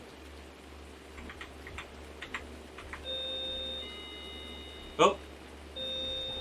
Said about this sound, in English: Excuse me, that's my doorbell.